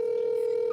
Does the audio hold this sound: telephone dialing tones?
yes